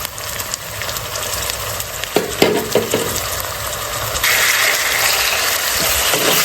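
Onions frying with ginger garlic paste for a red chilli chicken fry, a steady crackling sizzle broken by a few clattering stirs, then growing louder and hissier near the end.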